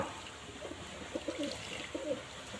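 Pigeons, including a blue hen and a white cock, coo softly and faintly in short low bursts while bathing, with quiet background ambience.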